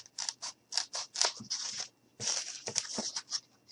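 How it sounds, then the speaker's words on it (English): Crisp scissor snips come close and quiet in short, quick runs as material is cut, turned over and cut again while making a gnome bed, with a short pause midway. "So I'm just going to go ahead, cut. Turn it over and cut again."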